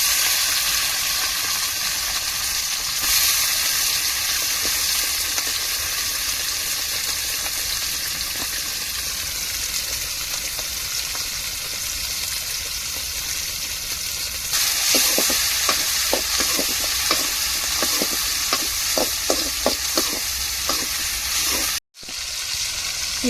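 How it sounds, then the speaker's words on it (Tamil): Continuous loud sizzling of tomatoes frying in a pan, later joined by a run of stirring clinks and scrapes before a brief cut. "தக்காளி சேர்த்துக்கிடுவோம்"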